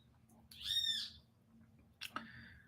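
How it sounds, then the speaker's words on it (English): An owl-like bird croaks outside in two separate calls: a drawn-out harsh cry, then a pause and a shorter rasping call, fairly close over a quiet background hum. "This damn bird's croaking out here."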